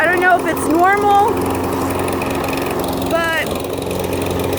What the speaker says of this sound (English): So I'm going to put the phone down really quick and fire this crazy lawnmower up.